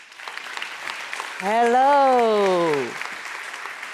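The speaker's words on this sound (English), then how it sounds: "Please, big round of applause for Katie." Audience applause for a speaker at a tech conference talk, steady clapping throughout with a voice speaking a brief greeting in the middle.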